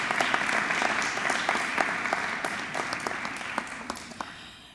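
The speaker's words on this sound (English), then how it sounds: "Let's give them all a round of applause for all that they do for our children." A crowd at a school dedication ceremony claps, a dense wash of applause with sharper individual claps popping out, gradually tapering off toward the end.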